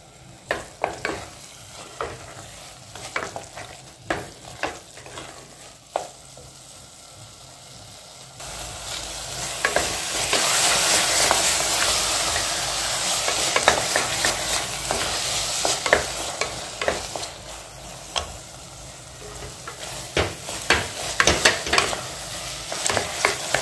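Carrot halwa with sugar stirred in a heavy pressure cooker, at first sharp, irregular scrapes of a spoon against the pot, then a louder bubbling sizzle as the sugar melts, with stirring continuing throughout.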